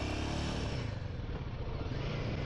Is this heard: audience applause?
no